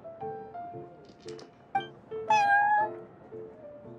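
Prince the cat meowing in a video game, a string of short tonal mews followed by one longer, rising and falling meow, clear and close, with quiet voice-like murmuring underneath.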